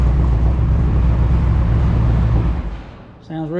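A 1964 Chevy pickup engine idles with a steady low rumble, close and fairly loud, then eases off near the end as a voice comes in briefly.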